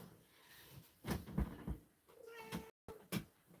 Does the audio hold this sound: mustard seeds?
no